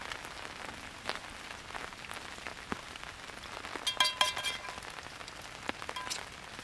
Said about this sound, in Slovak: Panvicu postavím na dážď, nech na ňu prší.